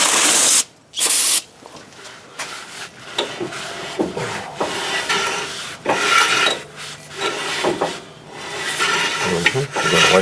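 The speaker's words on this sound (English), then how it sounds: "we're going to wipe it all down on the back side there" Rubbing and rasping as a rag wipes down the rear brake assembly of a 2006 Chevy Suburban, with short bursts of spray, close and fairly loud, in irregular strokes without pauses.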